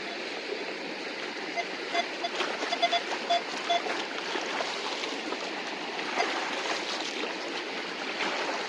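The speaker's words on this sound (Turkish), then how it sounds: "Gelmişken şu başlığı bir yıkayayım." Water splashes and gurgles continuously as a metal detector's search coil is swished in a stream, with a few faint electronic beeps mixed in.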